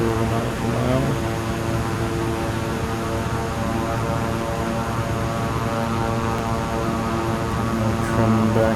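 Beechcraft King Air 350i turboprop taxiing in MS Flight Simulator 2020, a steady droning propeller and engine hum with layered tonal whine, holding level and close throughout with no talk.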